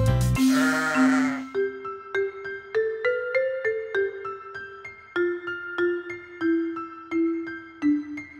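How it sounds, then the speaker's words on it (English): A sheep's bleat sounds once, loud and up close, then gives way to a bright, bouncy electronic melody of evenly paced notes that carries on to the end. "Baa baa, black sheep,"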